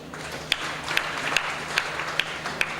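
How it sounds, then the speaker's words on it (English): Members at a school alumni reunion meeting clap for themselves in a light, scattered round of applause, with a few sharper claps standing out roughly every half second over a soft bed of clapping. "I want to take this opportunity to request all of you to clap for yourselves."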